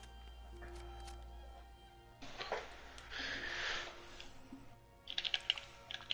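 Soft keyboard typing in a video game, in scattered bursts of clicks over a low background hum, with a few sharper key taps near the end.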